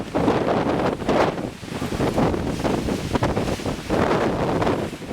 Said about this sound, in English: I'm blowing along here with the wind.